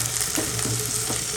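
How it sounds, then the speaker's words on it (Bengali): Tomatoes fry with ginger and garlic in a pan, giving a brief, even sizzle that holds steady at close range with only faint stirring. "ভাজা ভাজা করে নিলে এবার টমেটোগুলো ভাজা করে নেব"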